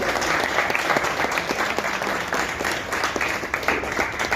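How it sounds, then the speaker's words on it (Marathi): An audience at a Mumbai tabla competition event gives sustained, dense applause, a continuous wash of many hands clapping at fairly close range that holds steady throughout. "आणि टाळ्या वाजवा"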